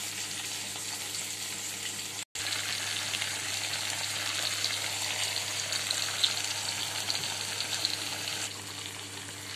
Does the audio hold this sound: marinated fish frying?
yes